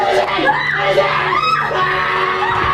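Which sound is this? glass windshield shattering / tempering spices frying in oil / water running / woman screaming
woman screaming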